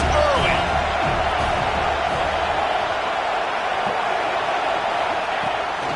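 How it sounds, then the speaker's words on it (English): Stadium crowd noise in a college football video game: a steady, loud roar of a packed crowd that holds evenly throughout, with a faint whistle-like tone early on and no clear talk over it. "This crowd bringing the energy and noise early."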